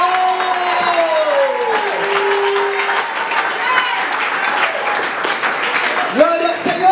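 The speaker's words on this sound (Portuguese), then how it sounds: "Palmas para o Senhor!" A church congregation applauds during a lively Pentecostal-style service, steady dense clapping and crowd noise under a loud amplified voice and sustained organ or keyboard tones throughout.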